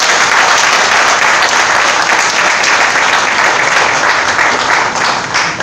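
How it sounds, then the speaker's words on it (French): Loud, sustained audience applause at an opposition youth rally ahead of legislative elections, a dense, steady roar of many hands clapping from start to finish. "Je vous félicite. Applaudissez le pays."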